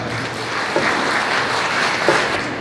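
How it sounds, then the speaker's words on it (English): Congregation members clap at a silver jubilee celebration and final profession of religious brothers and sisters, a loud, even crowd applause with a couple of sharper claps standing out. "Can give a good clap."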